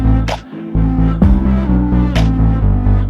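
A sustained musical passage from an album track plays loudly with rich harmonic tones and a steady throbbing pulse, with brief breaks and swells.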